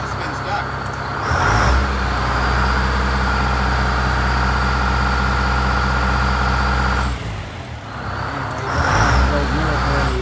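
GM 4106 bus fitted with an Allison V730, its engine held at high idle: a loud, steady mechanical drone that dips briefly, then swells back, with people talking close by.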